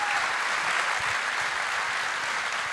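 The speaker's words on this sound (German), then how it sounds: "Applaus" An audience at a live talk show with music claps steadily, a dense, even wash of applause that holds throughout at moderate level, slightly distant.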